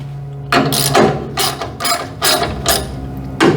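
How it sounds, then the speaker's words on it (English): A wrench tightens the feeder lugs on a 3-phase 400 amp circuit breaker, producing a series of sharp metallic ratcheting bursts, about six close strokes in an uneven rhythm, loud and near. "I don't like doing so much wrenching with my torque wrench"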